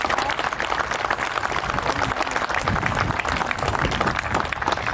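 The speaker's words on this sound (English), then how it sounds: "a round of applause for all the volunteers who put this thing on" A crowd at a truck show's speeches and auction applauds, loud and sustained clapping with a few whoops mixed in, no talk over it.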